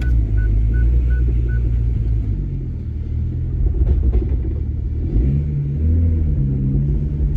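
A BMW N54 engine fitted with a new twin plate organic clutch idles and revs, a deep steady rumble with a low droning note that swells and shifts pitch, plus a faint repeating electronic beep early on; no talking.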